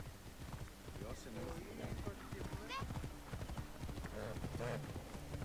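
Rhythmic clip-clop of horse hooves in the video game Assassin's Creed Origins runs steadily beneath people talking, with a brief whinny.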